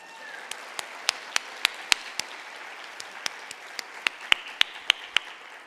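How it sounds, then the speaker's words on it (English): An audience gives a round of applause at a campus event honoring a core team and its leader, sparse separate claps ringing out over a steady wash of clapping for several seconds. "Let's give them a round of applause."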